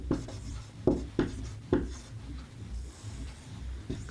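Pen strokes scratch across paper while a Sanskrit exam answer about marriage rites is written out, a few short rubbing bursts spaced irregularly, close and fairly quiet.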